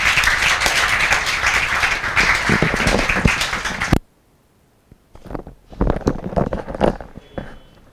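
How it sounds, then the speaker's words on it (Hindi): Students in a classroom break into a burst of dense, loud clapping that runs steadily for about four seconds, then stops abruptly, followed by scattered taps, shuffles and soft room noises. "तालियां बजनी चाहिए। बजाओ।"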